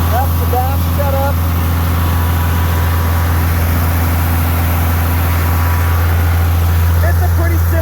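An old, simple tractor with no cab runs with a steady, loud low engine drone throughout, continuous and close, with a voice talking over it at times.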